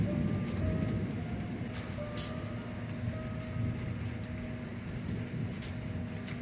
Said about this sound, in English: Who ordered this rain?